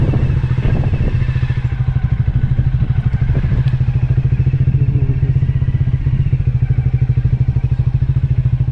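A Royal Enfield Himalayan motorcycle rides along with a loud, close, steady engine thump and rattling clatter, its rhythmic low pulse running unbroken throughout with no talk.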